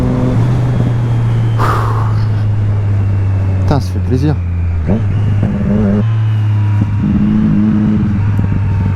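A Triumph Street Triple S three-cylinder motorcycle engine hums steadily at low, even revs while riding, with someone talking close over it and brief shifts in engine pitch.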